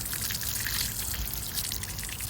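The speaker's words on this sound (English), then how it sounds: "Let's see if it can survive from the water wash and high pressure water." Water runs over a Hotwav Hyper7 rugged phone during a waterproof wash test, a continuous close rushing spray with no talking.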